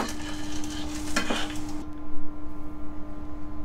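Eggs being scrambled in a pan by a child chef, a steady stirring scrape over soft frying sizzle, close and continuous, with a couple of sharper utensil scrapes midway before the sizzle thins out.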